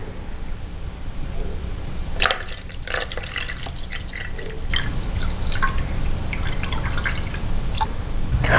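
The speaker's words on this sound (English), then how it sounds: "Start pouring the water in slowly." Water trickles slowly into a container for a saponification soap-making mix, a soft close dripping and splashing stream with a few louder drops, no talking.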